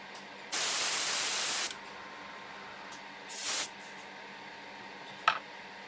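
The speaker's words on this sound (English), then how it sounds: "I've loaded up my airbrush with some flat white Tamiya XF2, and I've thinned it with acrylic thinner." Flat white Tamiya XF2 acrylic paint, thinned with acrylic thinner, sprays from an airbrush in two hissing bursts, a long one of about a second and then a shorter one, with a faint click near the end and no talking.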